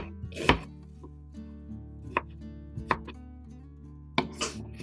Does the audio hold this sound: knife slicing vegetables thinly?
yes